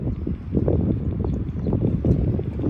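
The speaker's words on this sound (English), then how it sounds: "It was a little bit windy." Wind gusts across an open cemetery plot in Michigan, buffeting the microphone with a steady, low, muffled roar that swells and dips over a few seconds, with no other sounds.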